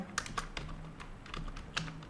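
Fingers tap on a computer keyboard while a to-do list is typed out in a React app, producing a string of sharp, irregular key clicks, close and fairly soft.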